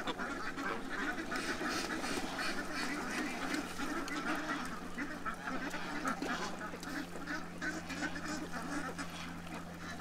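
Ducks let out in the morning quack in a busy flock, mixed with possible goose honks, under steady broadband outdoor noise, moderately loud and continuous throughout.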